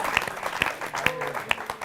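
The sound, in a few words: loud applause for poet Dr. Kunwar Bechain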